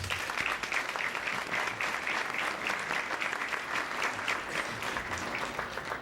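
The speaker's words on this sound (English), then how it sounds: "So let's give them a round of applause" Sustained audience applause for the faculty planning committee at a university Industry Day event, dense and steady clapping filling the room throughout with no talk over it.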